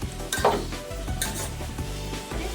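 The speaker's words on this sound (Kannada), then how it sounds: "ಸ್ವಲ್ಪ ಐಸಿನಲ್ಲೇ ಕಾಯಿ ಮತ್ತು ಬೆಲ್ಲ ಒಟ್ಟಿಗೆ ಹುರ್ಕೋಬೇಕು" Grated coconut and jaggery roast in a pan with a low sizzle while a spoon scrapes and clinks against the metal in uneven strokes, close by and without talk.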